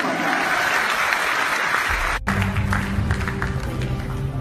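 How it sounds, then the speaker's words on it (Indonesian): Audience applause at a motivational event hall, dense clapping from a large crowd that continues under a loud low musical tone entering midway. "Tepuk tangan buat Tiens."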